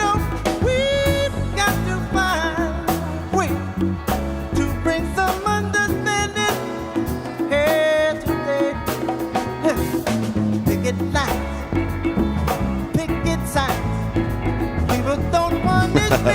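A sunburst Precision bass strung with flatwound strings and damped by a foam mute plays a busy, punchy line within a full band mix, with thuddy notes and steady drums underneath.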